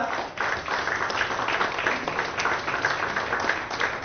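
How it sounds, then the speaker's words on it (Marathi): Hall audience at an award ceremony applauds the Best Customer Service Brand winner, a dense, continuous patter of many hands clapping for about four seconds with no gaps. "जोरदार टाळ्या"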